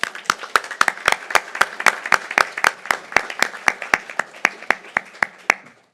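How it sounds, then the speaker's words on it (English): Applause at a school board meeting comes from a small group clapping in a fairly steady rhythm, with distinct, sharp, close claps for about six seconds and no talk over it. "I think we should all give her a round of applause"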